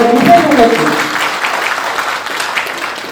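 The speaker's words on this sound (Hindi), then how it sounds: "प्लीज नीरज जी के लिए जोरदार तालियां बजाइए" An audience breaks into loud applause for Neeraj, a thick stretch of clapping that tapers slightly, with a voice briefly heard at the start.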